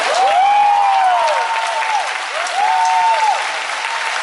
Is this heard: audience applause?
yes